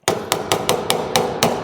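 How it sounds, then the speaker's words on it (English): Hammer blows flattening a metal panel on a VW race car hood, seven sharp, ringing strikes at a steady, slightly uneven rhythm, close and loud with no talking. "I believe I can just hammer that flat and it'll lay down"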